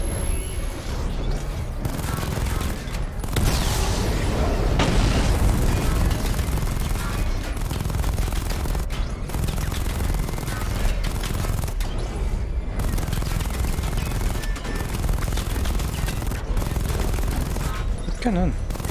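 Video game battle with a charged missile barrage: a dense, continuous roar of rapid explosions and gunfire-like blasts, loud and sustained throughout, with a voice talking over it.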